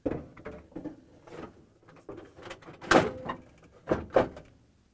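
A Frigidaire ice container slides into a freezer, producing a series of plastic scrapes, clicks and thuds in an uneven rhythm, close and moderately loud, with no talking.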